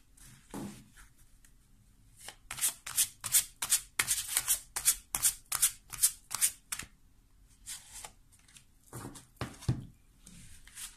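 Tarot-style fortune cards are shuffled in a long run of quick, rhythmic riffling bursts, loud and close, with brief pauses and no talking.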